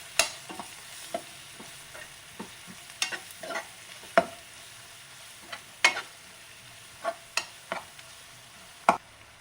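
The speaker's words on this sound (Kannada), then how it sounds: "ಇಷ್ಟು ಚೆನ್ನಾಗಿ ಮಿಕ್ಸ್ ಮಾಡಬೇಕು." Salted ingredients for a sweet potato paratha are mixed in a bowl, a close series of irregular scraping and tapping strokes spread across the stretch, with no one talking.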